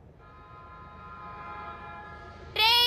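A train rolls along steadily in a Doraemon animated film, a sustained rumble with faint tonal lines that builds gradually, then a loud, bright horn or whistle blast bursts in near the end.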